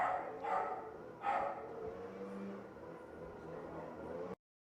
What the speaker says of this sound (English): I got my dogs barking in the back